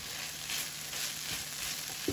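Chicken fries in a pan while its juices cook off, a steady soft sizzle with a faint scrape near the end and no talking.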